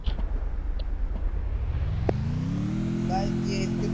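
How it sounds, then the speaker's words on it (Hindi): Mahindra Thar SUV driven nearby, its engine rumbling low then rising steadily in pitch as it accelerates, with people talking over it. "चलाओ यार ये थार।"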